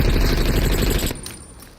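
Rapid automatic gunfire from the video game Call of Duty: Black Ops Cold War on PS5, a loud sustained burst of shots that stops abruptly and leaves a fading echo.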